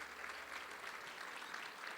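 A dinner audience applauds previous awardees with steady, dense clapping that fills the room at an even level from start to finish, with no voices rising above it.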